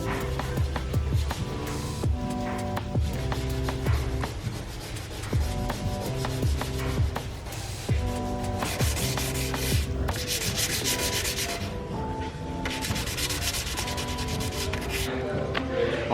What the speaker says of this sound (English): we sanded down the back as well